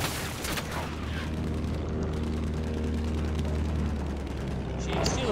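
Gunfire in Battlefield 1 on the Zeebrugge map around a battleship wreck, with scattered shots and distant booms over a constant low engine-like drone, with a voice talking over the action.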